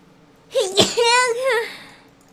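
A single sharp sneeze bursts out at close range, followed by a brief drawn-out voiced tail, with quiet room tone before and after.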